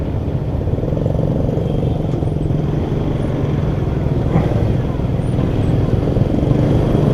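A Kawasaki Pulsar 200NS motorcycle rides through city traffic, its steady engine drone and road noise continuous and close throughout, with a rider's voice talking over it.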